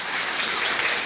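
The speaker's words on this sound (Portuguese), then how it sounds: "Muitos aplausos mais para eles." Audience applause in a conference hall after two speakers are introduced, a dense continuous wash of clapping, fairly loud and steady, with no voices over it.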